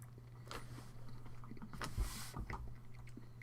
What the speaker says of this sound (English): Hopefully you can hear the crunch.